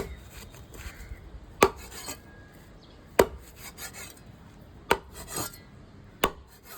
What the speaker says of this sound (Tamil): இது வந்து ட்ரை ஃபிஷ் கட்டிங்